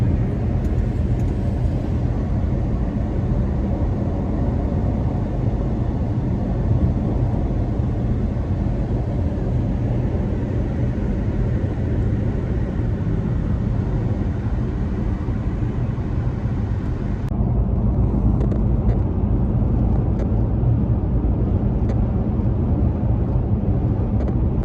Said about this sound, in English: I do hear a little road noise, which may be drowning that out.